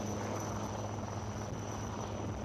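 Military helicopters fly over the NCC PM Rally at Cariappa Ground in Delhi. Their rotors make a steady, unbroken drone that fills the whole stretch, with no talking.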